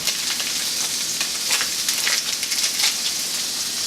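Salmon dropped into a hot pan sizzles loudly and constantly, a dense hiss with small crackles throughout.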